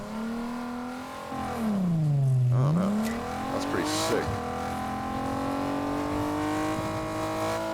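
A car engine in Fortnite revs loudly, dipping and then climbing in pitch before settling into a steady drone, while a voice talks over it.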